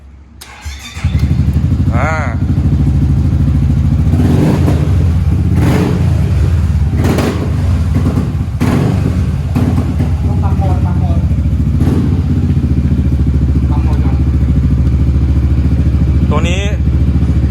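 A motorcycle engine starts and settles into a loud, close idle with several sharp revs. Someone talks over the running engine throughout.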